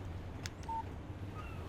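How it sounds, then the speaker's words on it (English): A phone text message alert chimes in the Alan Wake video game, a short, faint electronic tone set over a quiet, low background hum. "Text message from Barry"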